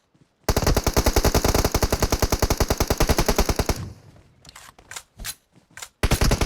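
Rapid automatic gunfire from a game rattles loud and steady for about three seconds, then a few sharper single shots and short bursts follow.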